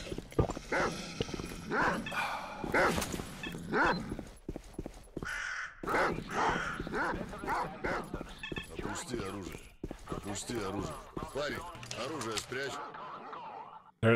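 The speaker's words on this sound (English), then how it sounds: "Hello, dogs. Goodbye, dogs." Dogs barking and yelping in the STALKER: Shadow of Chernobyl game amid busy game noise, with someone talking over much of it.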